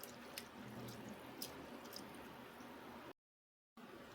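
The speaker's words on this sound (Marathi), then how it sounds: "आता आपण या डाळीला छान असं वॉश करून घेणार आहोत।" Moong dal being rinsed with water in a bowl, soft sloshing and dripping with small splashes, faint and close, broken by a brief silence.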